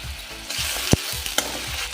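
Spice paste of onion, garlic, ginger and chilli with red chilli powder fries and sizzles in a pan, a soft steady crackle broken by a few sharp scraping strokes of a spoon, close and fairly quiet.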